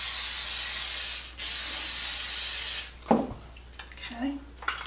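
Cooking spray hisses from an aerosol can into an 8x8 baking pan in two loud, close bursts with a brief break between them, followed by light clatter of the pan and faint kitchen handling.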